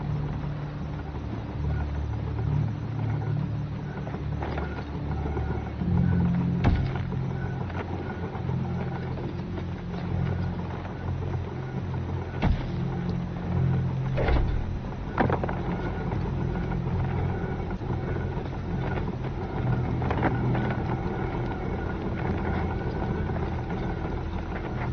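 Several grinder machines grinding charcoal in the survival game Dawn of Defiance, a continuous low mechanical drone like idling engines with occasional faint clanks, steady and unbroken throughout.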